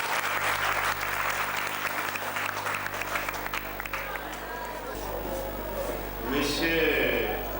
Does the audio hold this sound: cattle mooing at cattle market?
no